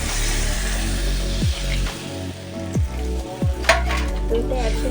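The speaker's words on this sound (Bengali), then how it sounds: "এটা ভালো করে নিয়ে একটু হালকা করে ভেজে নেবো" Spices with turmeric sizzle steadily in hot oil in a pan, with a few sharp bursts and pops as water goes in and the mixture is stirred, close and loud, with no speech.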